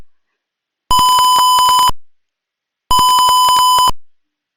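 Two identical electronic beep bursts, each about a second long, with a pause between them; small buzzers sounding a shrill, rapid pulsing tone.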